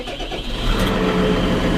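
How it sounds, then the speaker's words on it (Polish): A New Holland tractor fitted with an Electro Command transmission has its engine started, the loud mechanical churn rising quickly into a steady running rumble, close by with no talking. "Uruchomimy sobie silnik."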